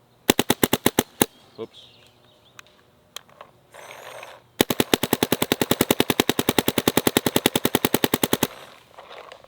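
Rapid bursts of paintball markers, a Dye DSR Pro and a Shocker Era electronic marker, firing paintballs into a forest, with sharp evenly spaced shots in quick strings, a short pause with a brief word spoken, then a long fast volley.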